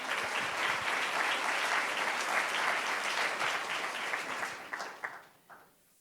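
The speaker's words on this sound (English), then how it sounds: "Let's give them a round of applause." An audience claps steadily in loud, sustained applause that carries on for several seconds, then tapers off with a few scattered claps at the end.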